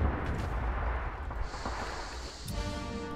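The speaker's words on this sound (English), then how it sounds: "All the shooting I'm hearing," Distant gunfire in the World War II shooter Red Orchestra 2 rumbles as a series of muffled booms and cracks over a low battlefield din, with a sharper report near the end and no talking.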